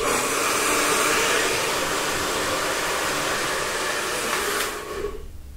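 A hair dryer blasts at close range in a steady, loud rush of air while drying the roots of head-forward hair, easing off near the end.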